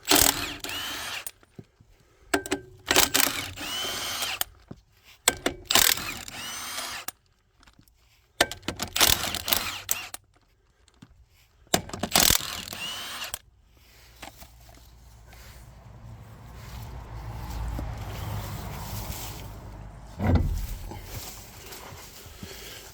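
Tools loosen the wheel on a Land Rover Defender 90 Puma during a brake pad job: short, loud bursts of ratcheting and mechanical clatter separated by pauses, then a longer stretch of low rumbling and scraping.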